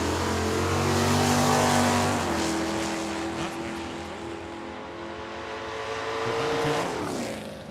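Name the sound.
1967 Ford Mustang notchback drag racing car accelerating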